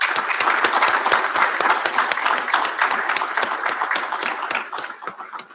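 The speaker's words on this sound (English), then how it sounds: "Please join me in applauding them." A crowd of graduates and guests at a college recognition ceremony applauds steadily, a dense wash of many hands clapping that stays loud throughout and tapers slightly at the end.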